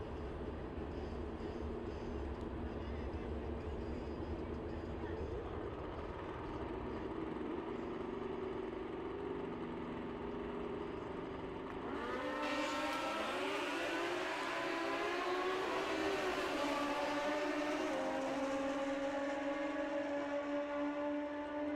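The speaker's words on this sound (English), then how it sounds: "Strange side, we've got a Kawasaki ZX12." A Kawasaki ZX12 drag racing motorcycle roars continuously at a drag strip, its engine note droning steadily and then surging loudly as it accelerates through the run, heard from a distance with no talking.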